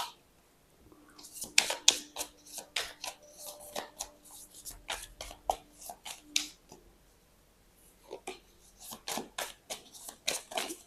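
Tarot cards are shuffled in quick bursts of crisp, riffling and slapping strokes, close and fairly quiet, with short pauses between runs and no speech.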